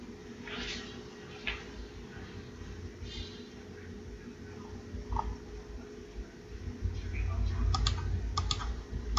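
Computer keyboard typing in scattered bursts of quick, light key clicks, fairly close but quiet, over a steady low hum with someone speaking at times.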